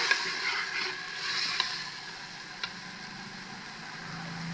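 Ginger and garlic fry in hot oil for chicken biryani, giving a steady, moderately loud sizzle with faint stirring ticks and no talking.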